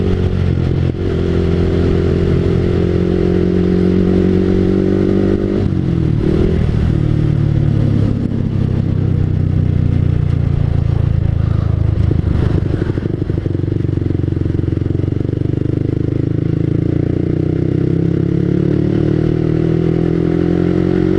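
Loud motorcycle engines at a Sunday morning ride gathering in Senayan, Jakarta, rumble and rev continuously nearby, with clattering and scraping mixed into the steady roar.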